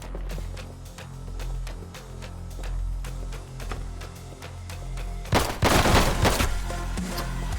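Gunshots from a shotgun or rifle in the shooter game Intravenous 2: a run of sharp, evenly spaced reports over a low rumble, then a loud, dense burst of blasts near the end.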